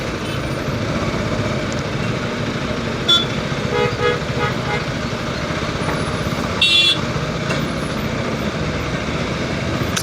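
Heavy road traffic near Hosur on the Hosur–Krishnagiri route: a steady loud roar of passing trucks and cars, with a few short horn toots, including a sharper honk near the end.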